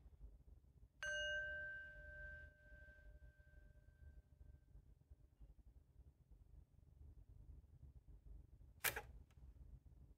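A single clear bell strike rings out and slowly fades over several seconds in a quiet room, followed later by a short sharp click.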